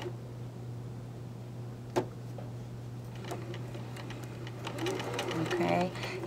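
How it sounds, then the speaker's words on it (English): A sewing machine runs at a slow, steady hum while stitching fabric along an inward curve, with a few light clicks and taps as it goes, and a person speaks quietly over it. "you're going to load this in your machine, and you're going to sew forward"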